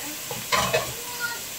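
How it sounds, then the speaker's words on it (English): Soft sizzling and stirring of curry with potato frying in a pan, with a couple of brief scraping bursts over a low steady crackle. "continue frying this up for another"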